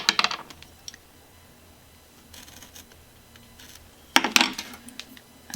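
Scissors cut through a paper planner page in two short bursts of crisp snipping, one at the start and a louder one near the end, with quiet rustling between and no talk.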